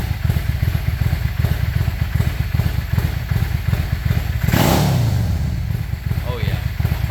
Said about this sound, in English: I'm sure you guys want to hear what this sounds like, so that's without choke